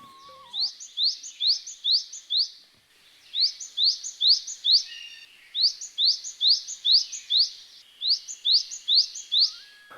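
A male bird sings in Kumaon: four loud, clear bursts of rapid, repeated high chirping notes with short pauses between them, alone with no other sounds.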